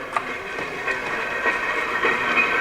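Train passing near the Horseshoe Curve, a steady rumbling roar with rhythmic wheel clicks over the rails and faint squeal, no voices.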